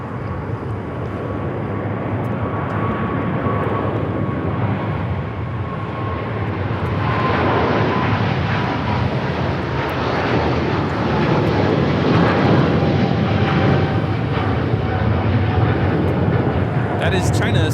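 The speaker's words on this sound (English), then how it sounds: "That is China Southern Cargo 2512, a 777 freighter taking off." A China Southern Cargo Boeing 777 freighter takes off at LAX with a loud, sustained jet roar that builds and swells over many seconds. Voices talk faintly underneath it.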